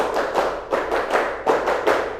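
Hands clap in quick rhythmic groups during a clapping chant, with sharp bursts of claps separated by short pauses.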